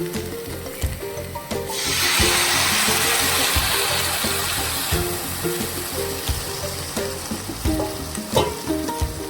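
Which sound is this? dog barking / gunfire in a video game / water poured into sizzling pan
water poured into sizzling pan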